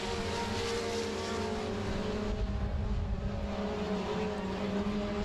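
Race cars roar around the track at Monarch Motor Speedway, a steady loud engine drone with sustained tonal whine as the lead pack runs single file through the turns, heard from a distance.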